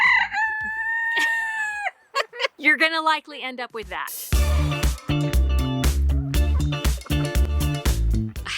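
Chickens, a batch of mixed young roosters and hens, crow and cluck loudly in a busy chorus, with a person speaking over the noise at first before the birds grow louder and denser.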